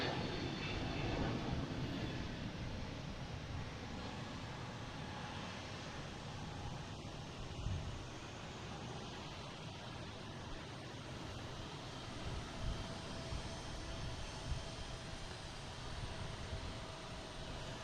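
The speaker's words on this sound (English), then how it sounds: "It's actually lined up on runway 15, waiting to take off." Jet airliner engines rumble at Boston Logan airport as a plane waits on runway 15 for takeoff, a steady, broad roar sustained throughout at moderate distance with no talk.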